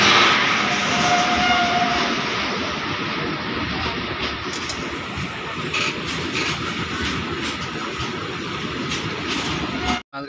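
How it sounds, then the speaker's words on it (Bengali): A freight train rumbles steadily past a single-line station crossing, close and loud, with rhythmic wheel clatter running the whole time before it cuts off abruptly at the end. "আর ওদিক থেকে আসছে একটা মালগাড়ি।"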